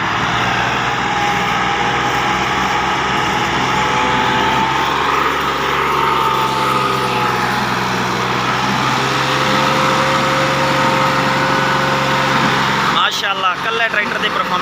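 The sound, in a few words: tractors revving engines pulling loaded trailer uphill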